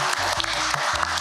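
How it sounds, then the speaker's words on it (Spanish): An audience claps steadily at a Chilean cultural event, a dense, continuous patter of applause with some low voices underneath. "también le vamos a dar un cariñoso aplauso"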